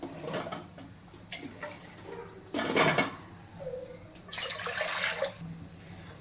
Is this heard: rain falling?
no